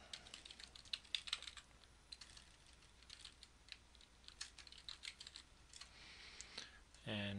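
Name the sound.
typing username and password on computer keyboard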